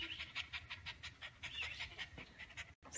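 Fast rhythmic panting from a dog named Cookie, happy after a walk, sounds close and steady for a few seconds, with a brief gap near the end.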